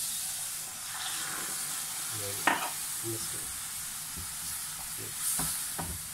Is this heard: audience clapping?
no